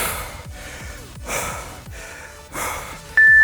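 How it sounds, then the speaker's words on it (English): Deep, heavy breaths during a bodyweight home workout, a rhythmic series of about four forceful inhale-exhale cycles, close to the microphone. "Big deep breaths."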